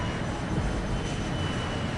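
A fighter jet in the video game Yeeps roars as a dense, steady engine rush, loud and continuous with no talking.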